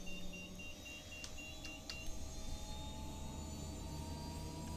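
The 500's engines start up in the X-Plane 12 flight simulator game with a faint, steady jet whine and hum, and a few short electronic beeps early on.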